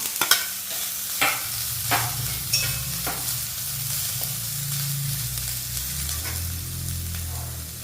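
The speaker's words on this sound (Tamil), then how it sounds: "இவ்வளோ வதங்கினாலே போதும் ரொம்ப சிவப்பாலாம் வறுக்க வேண்டாம் தேங்காவை" Grated coconut roasting and stirred in a pan with onion, a steady sizzle broken by sharp scraping strokes of a spoon near the start, continuing as an even frying hiss without talk.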